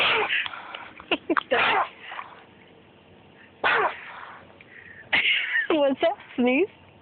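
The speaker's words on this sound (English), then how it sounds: "Sounded like a sneeze." A dolphin blows out a few sharp, wet sneeze-like bursts from the water, each short and forceful, separated by pauses, while people nearby react and talk over them.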